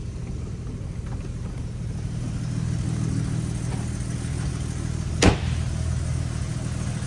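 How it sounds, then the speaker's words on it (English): A 1953 Jaguar XK 120 fixed-head coupe with a rebuilt engine, idling as heard at the tailpipe: a steady, smooth low rumble with a single sharp click partway through, close by and without talk. "I want you to hear both what's going on in the engine and what's going on back at the tailpipe."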